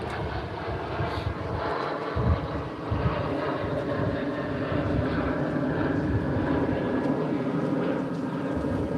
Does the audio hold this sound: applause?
no